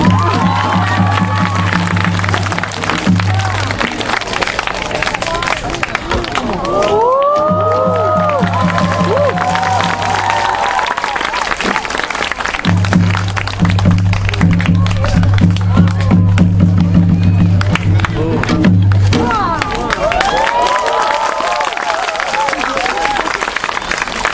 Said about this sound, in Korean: 박수가 좀 성의가 별로다잉